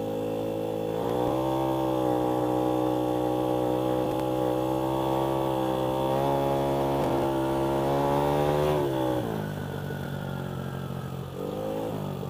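Vespa motorcycle engine revving hard and steadily for about nine seconds, a loud buzzing whine that rises in pitch, then drops back and revs again near the end, close to the microphone with no talk.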